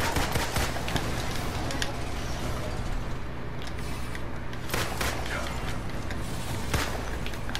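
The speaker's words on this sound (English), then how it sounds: "I'm trying to keep shooting his damn head, but I want to take out those turrets first" Rapid sustained gunfire in the Marvel's Avengers video game as shots are fired at a boss and its turrets, dense bursts of shots layered with clanking mechanical effects throughout.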